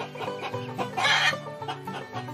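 Several chickens cluck in a steady, busy flock chatter, with one louder squawk midway, close and clear with no talk.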